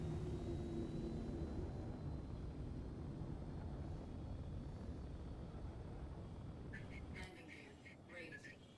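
Andromeda spaceship landing in the video game Star Citizen: a steady, loud engine roar and rumble that holds for several seconds, then eases off as it settles.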